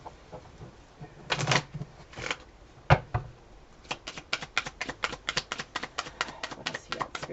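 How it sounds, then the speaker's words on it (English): Tarot cards being shuffled close by, first a few separate riffles and a slap, then a quick even run of crisp card flicks, with no talking. "I'm just gonna pull this expectation card, leave it here, shuffle"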